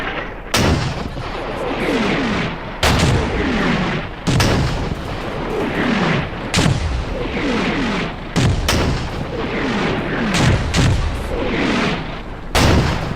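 Mortars fire in a World War II Market Garden battle in the Combat Mission strategy game, a series of loud, heavy thuds every two seconds or so, each followed by a rumbling, rolling tail.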